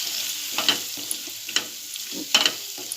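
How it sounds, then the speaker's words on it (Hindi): Prawns and onion fry with red masala, turmeric and Rajapuri mixed spice, giving a continuous close sizzle punctuated by several short bursts of stirring and scraping in the pan. "झींगे प्याज में थोड़ा देर भूनूंगी"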